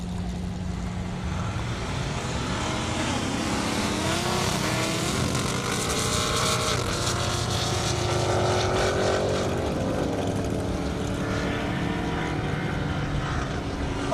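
A Chevrolet S10 and a Cadillac CTS-V drag race down an airport runway, their engines roaring loud and sustained, with a rising pitch as they accelerate away.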